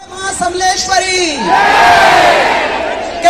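A concert crowd roars and whoops for a singer and his band at a live show in Sambalpur, Odisha, with loud overlapping cheers and rising shouts, and a voice calling out over the din.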